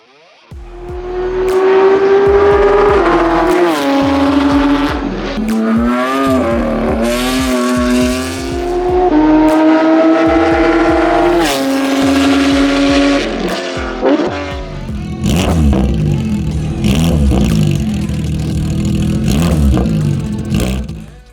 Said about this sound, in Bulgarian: Наистина колата звучи невероятно